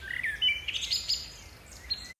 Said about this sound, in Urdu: چڑیا کی آواز کا نام چہچہانا، انگلش چرپنگ